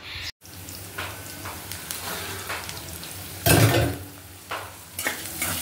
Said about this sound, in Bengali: এখানে হচ্ছে পেঁয়াজ ভেজে নিচ্ছি